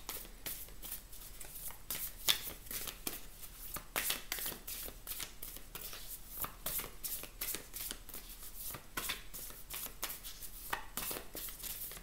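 Oracle cards are shuffled by hand in a quick, continuous run of soft riffling slaps and flicks, close and moderately quiet, with no talk over it.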